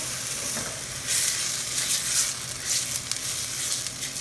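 Homemade marinara sauce sizzling in a very hot pan while being stirred, giving a steady crackling fry with bursts of bubbling and scraping up close.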